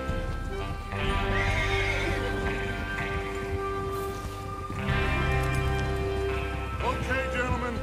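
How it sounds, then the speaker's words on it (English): Horses in Red Dead Redemption 2 whinny and neigh loudly over steady clip-clopping hooves at a gallop, with the neighs rising twice above the continuous hoofbeats. "Get your horses ready."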